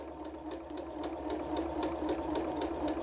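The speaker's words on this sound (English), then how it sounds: "And then I'd simply sew" A sewing machine runs a steady, continuous stitch along a fabric test swatch fitted with a seam guide, close and clear with no talking.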